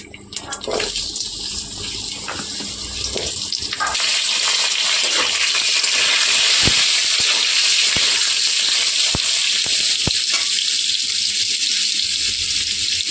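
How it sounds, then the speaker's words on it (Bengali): Loud, steady hiss and sizzle of potatoes dropped into hot oil with cumin seeds, with a few sharp taps and pops over the continuous frying noise, close up. "এবার এই তেলটাতেই সামান্য জিরে ফোড়ন দেব। এবার আলুগুলো দিয়ে দেব এক এক করে।"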